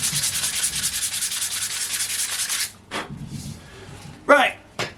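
A wooden spear stick is sanded by hand in fast, rhythmic rasping strokes for a few seconds. Then it stops, leaving a few brief rubs and knocks, and someone speaks at times.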